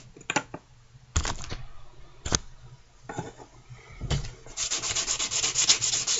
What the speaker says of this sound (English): sand with this 400 now.